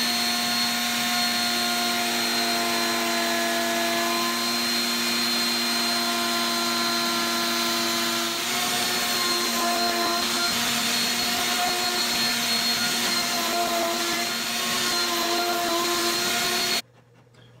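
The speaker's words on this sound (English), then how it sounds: "I'm going to use a round over bit, a very small round over bit, and I'm going to round over all of these edges here" A router fitted with a very small round-over bit rounds the edges of timber offcut panels, a loud steady high-pitched whine with constant tone that runs alone for most of the clip and then cuts off abruptly near the end.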